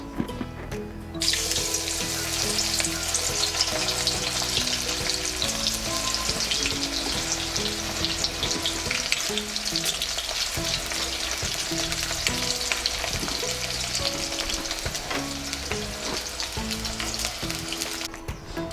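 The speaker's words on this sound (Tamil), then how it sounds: "எண்ணெய் சூடாயிடுச்சு, நம்ம வந்து இதை லைட்டாக ஃப்ரை பண்ணி எடுத்துக்கலாம்." Battered cauliflower deep-frying in hot oil, a loud, dense, continuous sizzle and bubbling crackle that holds steady close by for the whole stretch.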